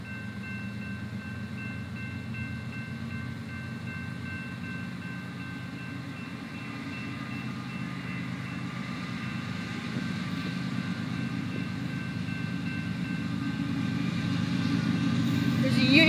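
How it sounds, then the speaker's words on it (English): A southbound BNSF coal train with a Union Pacific engine passes a lowered crossing in Frisco, Texas, a low steady rumble that slowly swells louder, with faint high tones above and quiet talk nearby. "Looks like a coal train. It's coming in southbound."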